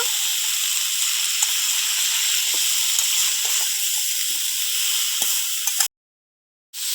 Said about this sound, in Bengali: লবণ আর হলুদ দিয়ে ভালো করে সজনোটাকে কষিয়ে নেব